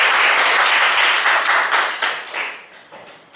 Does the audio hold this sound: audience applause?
yes